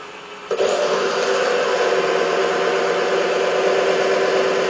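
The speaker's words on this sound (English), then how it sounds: "reduce the speed of the lathe to about 800 RPM" A wood lathe spins at about 800 RPM, a steady loud mechanical whir with a strong mid tone that starts abruptly just after the opening moment and holds evenly to the end, with no talk.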